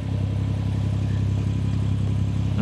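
A BMW M140i fitted with a hybrid turbo idles nearby, a steady low rumbling drone with a faint mechanical clatter, holding constant and alone.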